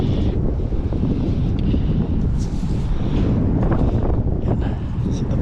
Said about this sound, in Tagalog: Medyo mahangin po mga toto. Pagpasyensyahan nyo po kung mahagilap na kayo ng hangin.